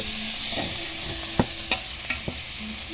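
Beef intestines sizzle in a hot pan as they go in for papaitan, a steady close hiss broken by a few sharp stirring clatters, with no talk.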